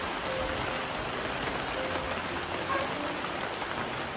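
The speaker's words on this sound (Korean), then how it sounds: "근데 날이 조금 흐려지더니 비가 오기 시작했어요." Steady rain falls on a Himalayan trek descending terraced fields near Mardi Himal, a dense, even hiss throughout with no breaks.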